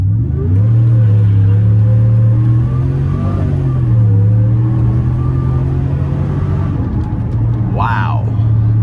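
A supercharged Chevrolet Silverado 1500 pickup in sport mode roars steadily under full throttle, a deep droning rumble rising slightly in pitch as it accelerates hard.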